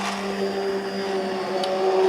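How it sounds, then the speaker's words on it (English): An immersion blender whirs steadily through broccoli soup, a continuous close motor hum with a faint tonal whine, unbroken for about two seconds with no voices. "I like to use this immersible blender just because it does it all in one fell swoop"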